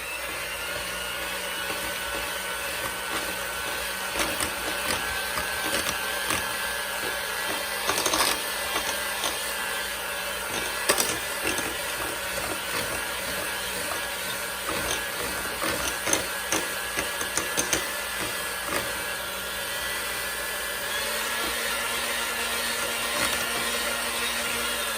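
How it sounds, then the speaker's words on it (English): An electric mixer blends two eggs into sugar cookie dough, a steady motor whir held throughout with small clattering bumps as the beaters work the bowl. "Now blend this with the 2 eggs."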